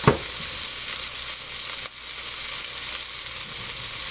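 Large scallops sear in hot oil in a pan, a loud continuous sizzle that opens with a sharp crackle and a brief dip partway through, then settles back into a steady frying hiss.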